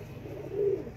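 A pigeon being held in the hand gives a single short, soft coo close by, over a low background murmur.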